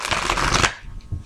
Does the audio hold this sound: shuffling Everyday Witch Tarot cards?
yes